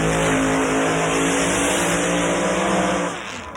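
A drag racing car at Summernats makes its pass with a loud, sustained engine roar at full throttle, steady and close, then dropping off slightly at the very end as it winds down.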